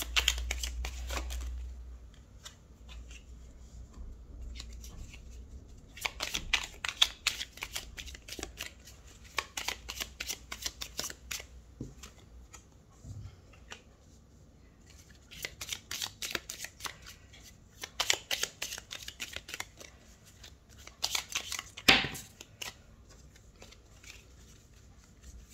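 Tarot cards are shuffled and drawn for a reading, with bursts of riffling and soft slaps recurring in several clusters over a quiet background, with no talk.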